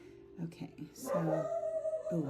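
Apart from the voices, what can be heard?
dog barking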